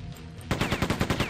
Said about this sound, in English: These guys have machine guns.